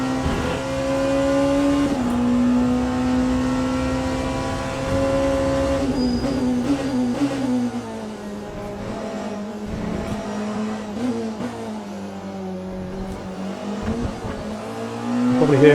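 Racing car engine from Le Mans Ultimate, a Porsche 911 RSR GTE or Porsche 963, plays steadily through a sim rig, with a sustained revving tone that shifts pitch and a mechanical rattle and thumps from the rig underneath.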